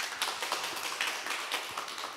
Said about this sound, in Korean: 힘내시라고 박수 한번 주십시오.